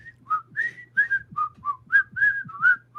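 A person whistling the Andy Griffith Show theme tune, a short melodic run of clear, bright notes in a steady rhythm, close and alone.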